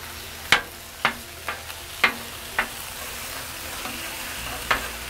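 Egg roll in a bowl (crack slaw) sizzling on a flat-top griddle while a spatula chops it down, giving sharp metallic scrape-and-tap strikes every half second or so over a steady frying hiss.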